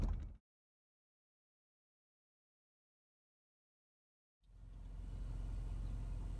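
A car being driven on a school run, its low steady road and engine rumble cutting out after a moment, leaving several seconds of silence before the drone returns and holds.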